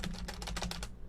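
A computer keyboard is struck in a rapid burst of about seven clattering keystrokes, close and loud, then stops.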